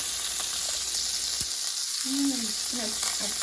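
Rendered pork lard melting in a very hot pan: a steady, soft crackling sizzle throughout, with a brief low tone partway through.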